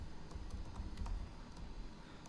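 Steady, quiet typing on a computer keyboard, a continuous patter of soft key clicks heard alone at close range.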